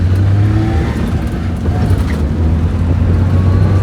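A Maruti 800 car pulls in first gear with a steady, loud engine drone from inside the cabin, holding an even low hum throughout.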